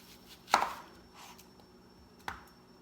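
Two crisp knife chops through an onion on a cutting board, slicing it into half-inch rings, spaced well apart with quiet in between; no speech.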